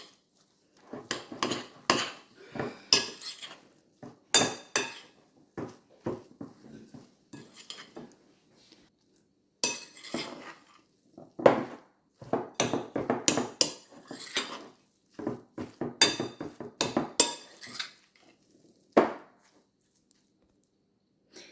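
A spoon works meatball mixture around a bowl, producing a long series of irregular clinks and scraping taps in bursts with short pauses, close and fairly quiet, with no one talking.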